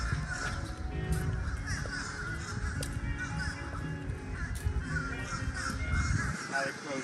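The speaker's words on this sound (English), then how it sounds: "There are a lot of blackbirds out here today" Blackbirds calling outdoors, a steady chatter of cawing, croaking calls spread across the scene at moderate distance, mixed with low background rumble and occasional voices.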